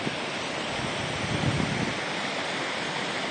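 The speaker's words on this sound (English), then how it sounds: "Here's the waterfall over here where it goes down." Floodwater from a road washout at Bastedo Creek in Lake of Bays, Muskoka, pours over the edge like a waterfall, giving a loud, steady, broadband roar that continues unbroken with no voices.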